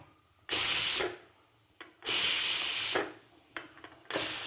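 A pressure cooker holding Kerala-style chicken roast vents its steam in loud, close hissing bursts: a half-second blast, a longer one-second rush, then shorter spurts. No one speaks.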